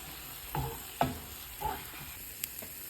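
Green chilli thokku fries in oil as it is stirred, with three or four soft scraping strokes over a low, close sizzle.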